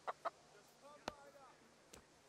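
Faint, sparse clucks from a chicken in Kingdom Come: Deliverance, a few short separate calls spaced over a couple of seconds against quiet background, with a voice talking nearby.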